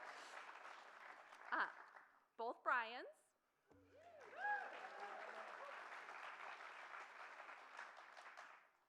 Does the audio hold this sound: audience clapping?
yes